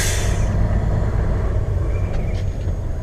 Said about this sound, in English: cool Peterbilt tri-axle flat roof heavy haul truck